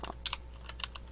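Quick, light keystrokes on a computer keyboard, about eight close clicks in a brief burst over a faint low hum.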